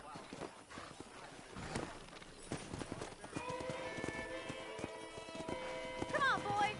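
Hoofbeats of horses on open ground in Red Dead, fairly quiet clip-clop under background game sound, with a faint whinny-like tone near the end.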